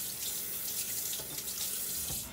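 A teaspoon rinsed under a running kitchen tap, a steady close hiss of flowing water into a sink with no talking.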